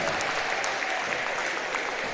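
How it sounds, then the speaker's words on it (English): A home crowd at a girls' high school basketball game applauds steadily as a player heads to the bench, a dense, even clatter of many hands throughout. "she'll get a nice ovation as she goes to the bench from the home crowd too"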